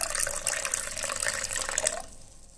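Water pours steadily into a blended pani puri mixture, a bright continuous splashing flow that stops abruptly near the end, close and alone.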